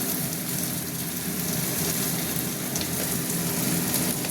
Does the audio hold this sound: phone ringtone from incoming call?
no